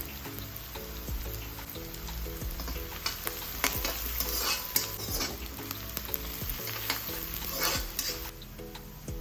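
Shallots and ginger sauteing in a pan for a fish curry, with loud continuous sizzling under frequent close scraping and clinking stirring strokes and a faint steady hum behind, with no talking.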